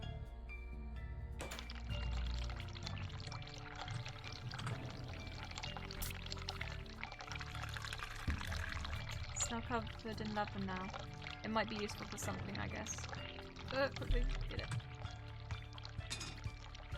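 A running tap in the video game The Cat Lady, giving a continuous pouring, splashing water sound throughout under a person talking over it.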